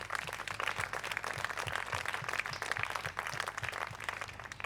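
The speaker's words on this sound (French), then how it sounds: "Je vous demande de bien vouloir les applaudir." Audience applause at a school mock-trial eloquence contest, a steady wash of many hands clapping throughout with no pauses.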